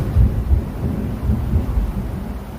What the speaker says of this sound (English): That rain's really picking up, hope you guys can hear.